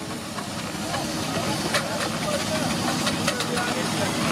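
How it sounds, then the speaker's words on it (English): Steam wagon at the Sheffield steam rally letting off a continuous broad hiss of steam amid engine rumble, with a commentator's voice over the public address running throughout. "there's the steam wagon, which is directly behind the electric wagon"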